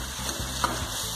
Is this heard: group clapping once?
no